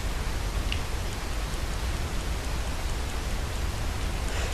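Steady rain falls in Red Dead Redemption 2 with a dense, even hiss, unbroken throughout and with no voices.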